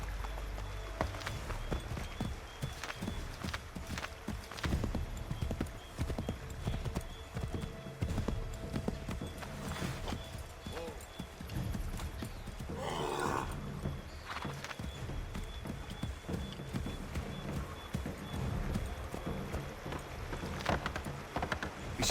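Horse hooves clatter at a gallop in the Assassin's Creed 3 video game, a fast continuous drumming of clip-clops throughout, loud and close, with a brief whoosh midway and no clear speech.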